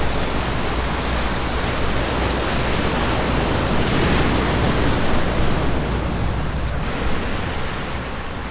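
Ocean surf pounds the rocky shore at Electric Beach on Hawaii's west coast, a loud, steady roar of crashing waves with continuous broadband wash and no voices.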